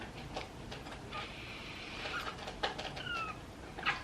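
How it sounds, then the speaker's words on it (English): A small kitten meows a few times, faint and fairly close, with short thin cries spaced out in an otherwise quiet room. "Oh wait, here's a kitty."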